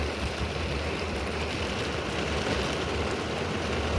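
Heavy rain from a storm in the Jamaican bush pours down steadily, a dense, even hiss of drops drumming on surfaces nearby, with no talking.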